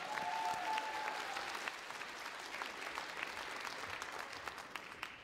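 Audience at a KVN comedy contest in Ufa applauds the Sterlitamak team, a steady wash of many hands clapping that holds for several seconds at a moderate, slightly distant level.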